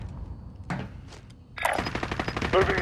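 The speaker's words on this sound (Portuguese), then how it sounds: "eles estão a disparar para mim" Gunfire in Call of Duty: Modern Warfare: a couple of isolated shots, then a rapid automatic burst of evenly spaced rounds that continues to the end, loud and close.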